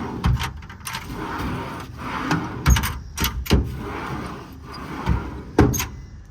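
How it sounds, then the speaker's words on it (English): Metal drawers in the service body of a 2019 Ford F-550 with an IMT Dominator 11-foot bed slide and knock shut several times, each a short sharp clack over low background noise. "These drawers all slide nicely."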